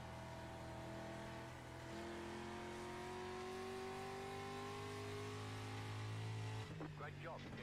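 Race car engine in iRacing, a Rookie Street Stock car at Thompson International Speedway, droning steadily with rising and falling pitch as it runs laps, with other cars audible nearby and a brief shift near the end.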